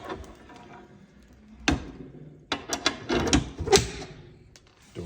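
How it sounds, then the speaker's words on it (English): The cast iron doors of a Consolidated Dutchwest coal-burning stove swing shut. A few sharp metallic clanks and clunks come close together amid softer handling noise, with no voices. "Door is closed."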